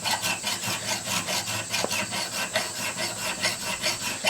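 Steady hand filing of a steel belt axe head, the file rasping in continuous back-and-forth strokes, close and loud with no voices.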